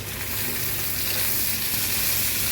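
Ginger and garlic paste sizzles in a hot pan, a steady close crackling fry with a faint stirring texture, continuous throughout with no voices.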